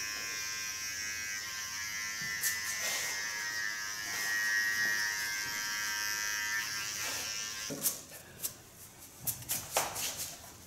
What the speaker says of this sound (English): so I can do this with a small clipper